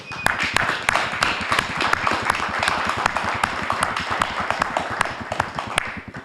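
Sustained audience applause for a murdered MNR founder at a gathering on students and university reform, dense rapid clapping holding steady and loud throughout with sharp individual claps standing out, no talk.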